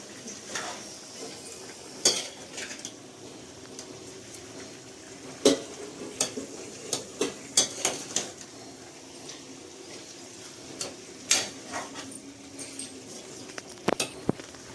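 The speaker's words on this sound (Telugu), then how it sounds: "ఒక్కసారి చికెన్ బాగా కలపాలి. అడుగు నుండి ఇలాగా కలిపేద్దాము." A pot of chicken curry (salan) with onion pieces is stirred and scraped up from the bottom, giving irregular clinks and scrapes of a utensil against the pot over a soft, steady sizzle.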